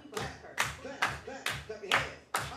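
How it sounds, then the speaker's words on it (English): Children clap along during a get-moving exercise session, with about six sharp, evenly spaced claps over a couple of seconds. A faint voice can be heard between the claps. "Clap."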